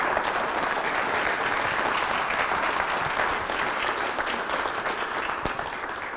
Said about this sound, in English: So let's give Devin a round of applause.